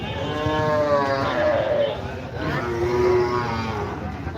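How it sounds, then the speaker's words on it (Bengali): Large cattle are unloaded from trucks at the Chaubaria cattle market on a Friday, giving several long, drawn-out moos close by over a busy background murmur of the crowd and vehicles. "আমরা ইতিমধ্যে দেখতে পাচ্ছি গাড়ি থেকে বড় বড় যে গরুগুলি সেগুলি কিন্তু নামানো হচ্ছে"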